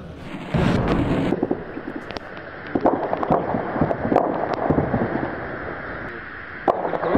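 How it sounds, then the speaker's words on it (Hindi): Gunfire at the Pakistan-Afghanistan border cracks and booms in loud, irregular bursts over a rough, wind-buffeted outdoor background, with some shots landing close together and others spaced apart. "फायरिंग की आवाज़ भी सुनी जा सकती है।"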